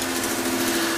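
A kitchen knife blade being blue-polished on a polishing wheel in a Solingen workshop, giving a steady loud whirring grind with a constant hum and no break.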